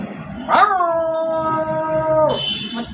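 A comedian on stage imitates a dog howling: one long, steady, tonal howl of about two seconds that rises at the start and falls away at the end, loud and close, with no other talk.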